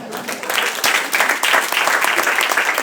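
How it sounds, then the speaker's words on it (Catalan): An audience at a Santa Coloma de Farners literary event applauds a man in the crowd, a dense, steady patter of many hands clapping close by for a few seconds, with no voices over it. "Un aplaudiment per ell."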